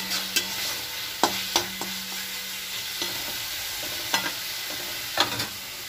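Jackfruit and potato frying in hot oil in a pan, a constant close sizzle broken by several sharp stirring scrapes and knocks of a spatula at irregular intervals, with no voices.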